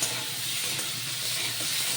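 Okra frying in a pan with crushed ginger, turmeric and salt, giving a steady, dense sizzle with faint stirring, close and continuous, no talking.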